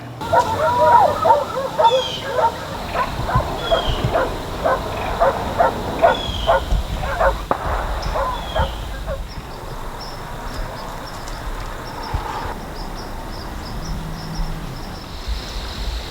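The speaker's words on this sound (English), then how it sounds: "Tonight, neighbors are running their dogs." Hunting dogs bark and yip repeatedly in the distance at night for several seconds, then fade into a quieter outdoor background with faint insect chirping and occasional soft sounds.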